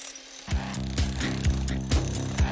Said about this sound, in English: He created it with a drill, a hammer, and a chisel.